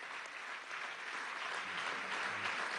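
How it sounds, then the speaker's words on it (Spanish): Sustained audience applause fills the clip at an event closing a digital technology fair in Venezuela, a steady dense clatter of many hands at moderate distance without pause. "Un aplauso, padre,"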